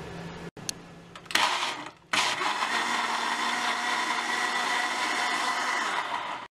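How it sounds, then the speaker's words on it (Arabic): An electric blender blending apricots with water whirs steadily at a high pitch after a few short clatters and pauses, running loud and continuous until it cuts off at the end. "وبعد ما ضربنا المشمش كويس في الخلاط"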